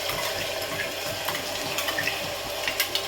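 Onion paste sizzles and crackles in hot oil for a mutton paya curry, a steady close frying hiss with small pops, and no voices.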